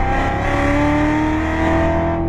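A race car engine revs at full throttle, a loud, close, steady whine that climbs gradually in pitch as the car accelerates.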